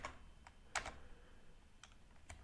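Someone types quietly on a computer keyboard during a FreeBSD install in VirtualBox. Sparse, irregular clicks and a couple of sharper double taps sound close against a faint room hum, with no voice.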